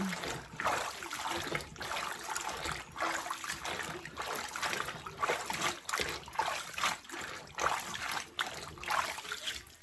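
Collard greens are sloshed and rubbed in a sink or bowl of water during a final wash, giving quiet, repeated splashing and trickling in uneven bursts close by.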